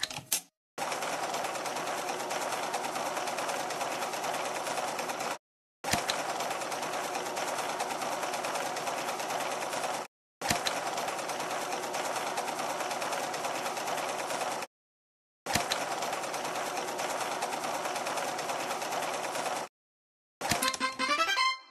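A sewing machine in a fashion dress-up video game stitches clothes in four long, steady whirring runs separated by short silences, then a brief burst of another game sound at the end.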